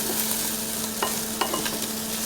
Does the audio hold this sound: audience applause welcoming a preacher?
no